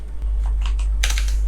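A password is typed on a computer keyboard during a Flutter app coding lesson, a short burst of quick, close key clicks over a steady low electrical hum.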